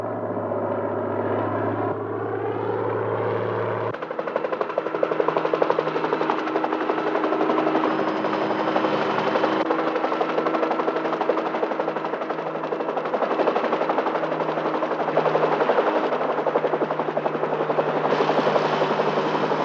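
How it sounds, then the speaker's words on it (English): A helicopter engine and rotor run loud and steady throughout, with the pitch rising as it spools up in the first few seconds and then holding a dense, continuous drone. "Wig, get the chopper ready."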